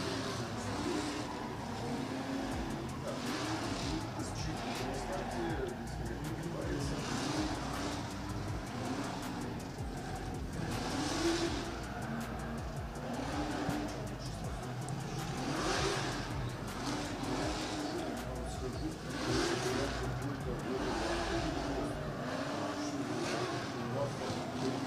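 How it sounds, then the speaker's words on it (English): A BMW E46 drift car revs continuously in the burnout box at a drift championship in Oman, the engine roar sustained and somewhat distant, with an announcer's voice running over it. "just in the burnout box, warming in tyres in that E46 BMW."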